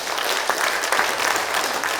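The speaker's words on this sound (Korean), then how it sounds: "여러분 큰 박수 부탁드립니다" An audience at a regional forum event in Bonghwa County, Korea, claps together in a dense, even burst of applause that holds steady throughout.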